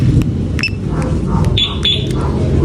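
A Raider 150 Fi motorcycle's anti-theft alarm sounds in a workshop as a series of short electronic beeps and chirps over a steady low engine or mechanical drone, fairly close.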